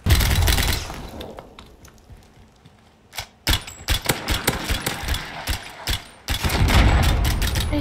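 Video game gunfire crackles in sharp, irregular bursts of shots, loud and close, with a quieter lull and then a renewed volley of rapid cracks.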